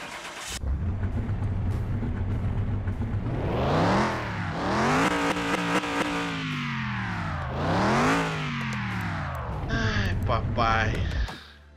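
An Opala with a gold engine in Car Mechanic Simulator 2021 starts up and revs repeatedly, the engine note rising and falling in several sweeping pulls, close and loud, with talk over it.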